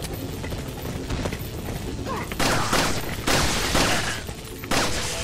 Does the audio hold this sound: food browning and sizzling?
no